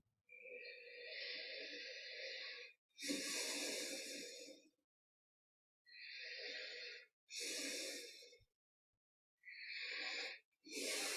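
Slow deep breaths during a guided yoga meditation, long airy inhales and exhales with pauses of silence between them, close and soft with no talking.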